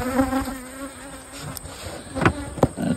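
Bees and a few yellow jackets buzz at an open sugar syrup feeder covered with straw, a close, dense drone with individual insects whining past and occasional clicks.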